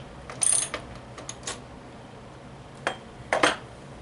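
A few sharp metallic clicks and short ratcheting ticks as a part is hand-tightened during pinball playfield repair, close and fairly quiet, in scattered bursts with pauses between.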